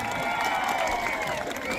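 An outdoor Navruz festival crowd applauding and cheering at a public celebration in Uzun district: sustained, dense clapping close by alongside festive music tones, steady and loud throughout.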